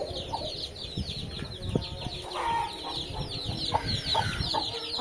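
Hens and young chicks cluck and peep close by in a farmyard, with continuous overlapping chirps and occasional louder clucks, no talking.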